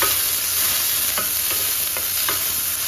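Chopped onion frying and being stirred in a pan while cooking cabbage and carrot thoran: a steady sizzle throughout, with a few soft spatula scrapes and stirs breaking through, close and alone.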